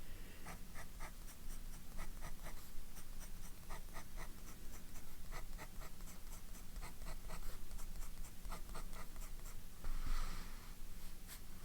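A fountain pen with a medium nib scratches across paper in quick, rhythmic strokes, soft and close against a low steady background hiss.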